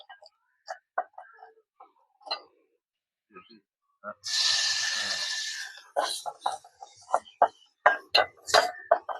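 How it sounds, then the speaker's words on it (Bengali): Food being stirred in a cooking pot with turmeric, cumin and meat, sparse metallic clinks and scrapes of a spoon against the pot, a burst of hissing sizzle midway, with someone talking in between. "বন্ধুরা, এখন আমি নেড়ে নেব"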